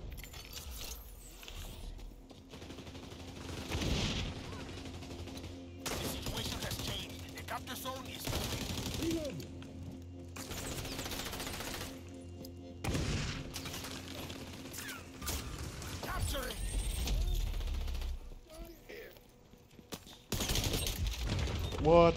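Gunfire in the XDefiant shooter game rattles in repeated bursts and volleys across the scene, mixed with clattering effects, while a person talks intermittently over the action.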